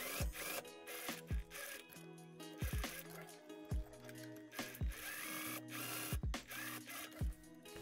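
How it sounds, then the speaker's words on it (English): A sewing machine understitches a seam on a dirndl, running in short mechanical bursts with rhythmic clicking and whirring, stopping and starting several times at close range. "I will also understitch the seam so that the pocket lays nicer."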